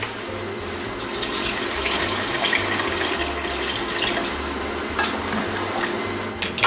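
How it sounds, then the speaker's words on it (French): Water pours steadily into a pot of red beans with chopped onion, a continuous close splashing rush that runs without a break. "on va maintenant couvrir avec de l'eau"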